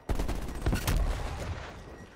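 Shotgun blasts in the video game Call of Duty Cold War multiplayer, a few quick booming shots in succession, fairly faint and alone, fading into a short tail.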